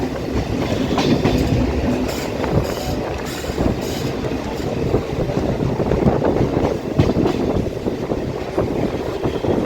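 A Kolkata Chakrarail circular suburban train rolls along its rails with a continuous loud rumble and rhythmic clatter of wheels, heard from aboard with wind buffeting the microphone.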